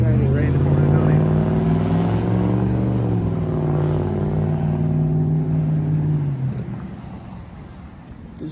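A red truck's engine drones nearby with a steady low hum that shifts pitch as it moves past a building, then gradually fades away.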